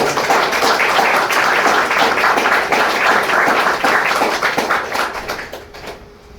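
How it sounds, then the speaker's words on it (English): An audience at a panel discussion on AE and esotericism gives a loud, steady round of applause that carries for several seconds, then thins and fades toward the end. "So big round of applause please for"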